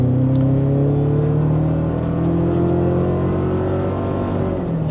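A Toyota Tacoma pickup truck accelerating hard from about 10 mph with the pedal floored, its engine note droning loud and steady as it slowly rises in pitch, with no talk.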